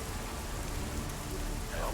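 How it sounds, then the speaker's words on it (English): Raindrops patter on a metal dumpster in Deus Ex: Mankind Divided, a dense continuous rain hiss with soft drumming underneath, steady and close with faint background noise. "it's just raindrops hitting the"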